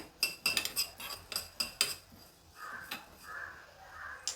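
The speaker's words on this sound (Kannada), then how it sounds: "ಒಂದು ಟೀ ಸ್ಪೂನಷ್ಟು ಧನಿಯಾ ಹಾಕ್ಕೊಂಡಿದ್ದೀನಿ ಹುರ್ಕೊಳ್ಬೇಕು ಡ್ರೈ ರೋಸ್ಟ್ ಮಾಡ್ಕೊಳ್ತಾ ಇದ್ದೀನಿ" Coriander seeds are dry roasted in a pan, with a quick series of sharp metallic clinks and scrapes from stirring, followed by softer rustling and scraping.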